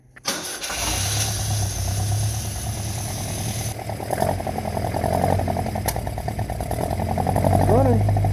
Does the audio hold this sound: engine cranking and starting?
yes